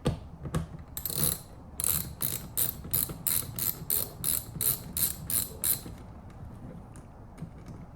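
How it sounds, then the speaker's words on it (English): A socket wrench ratchets in quick, evenly spaced clicking bursts, about a dozen crisp pulls close by, during a rear pony light install on a Mustang Mach-E. "twist the socket wrench."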